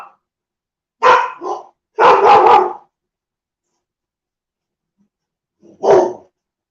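A dog barks in separated bursts: a single bark, a quick double, then after a long silence one more, close and loud in a quiet setting.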